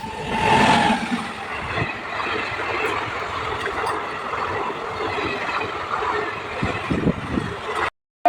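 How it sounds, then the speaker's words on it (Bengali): The Matara Express pulls out along line four of a station at night, a steady rumble of wheels and carriages rolling past at moderate distance, with a brief louder swell near the start before the sound cuts off abruptly. "চার নম্বর লাইন দিয়ে বেরিয়ে যাচ্ছে মাতারা এক্সপ্রেস"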